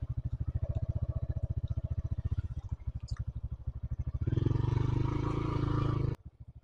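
A motorcycle engine idling and pulsing steadily at low speed on a slippery road, the rhythmic thumps rising louder in the last seconds before cutting off abruptly.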